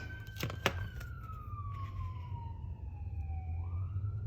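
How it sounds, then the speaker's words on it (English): A siren wails steadily as a vehicle passes, its pitch sliding gradually lower, with a couple of sharp knocks early on over low rumbling background. "Sorry if you can hear the ambulance going by the house."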